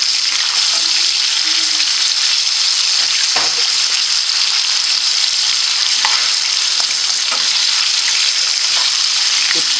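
Marinated chicken pieces sizzle and fry steadily in a pan, a dense, continuous crackle with occasional sharper pops and stirring scrapes, loud and close with no voices.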